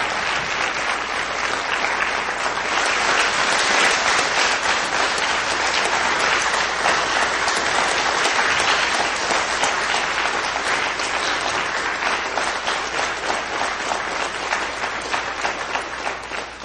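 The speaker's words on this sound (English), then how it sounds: "Let's give one last round of applause." Sustained applause fills an award ceremony for a Wall of Honor induction, a dense, even wash of clapping from a large audience that carries on without a break for the full length.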